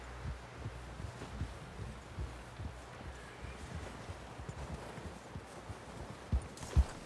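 Horse hooves clip-clop in a steady walking rhythm in the Red Dead Redemption 2 video game, faint and under a low rumbling ambience, with a couple of louder thumps near the end.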